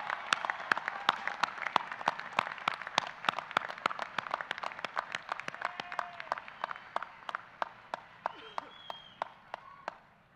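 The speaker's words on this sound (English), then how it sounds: "Applaud them as you stand here ready to graduate." Graduating students at a university commencement ceremony clap for their families, sharp distinct claps in a steady rapid rhythm that gradually thin and fade over about ten seconds in a large hall.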